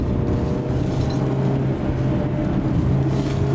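Steady close engine drone from inside a BYD S6 2.4 car running on LPG gas with a Stag system, a smooth even hum without surges.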